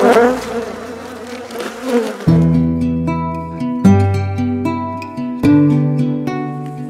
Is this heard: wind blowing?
no